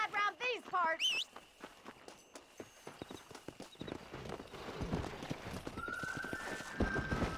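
A horse in the Red Dead Redemption video game whinnies sharply at the start, then its hooves clip-clop in a quickening rhythm over a rumbling ground noise, with a brief high tone ringing near the end.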